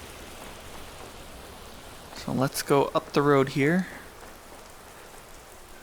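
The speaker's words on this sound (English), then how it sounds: "It's raining." Steady soft rain falls in the video game Skyrim VR, a constant hiss of drops running throughout while someone speaks briefly over it.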